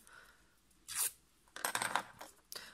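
Scissors drawn along paper to soften it for a Christmas tree card: a quick, bright scraping swipe, then a cluster of papery rustles and scrapes, close and fairly quiet.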